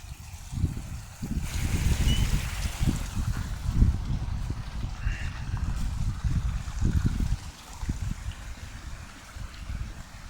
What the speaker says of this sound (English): all of this drains down to the sump